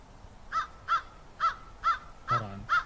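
Crows cawing in the game Dead by Daylight, six harsh calls spaced roughly half a second apart, fairly close and clear over a quiet ambient backdrop.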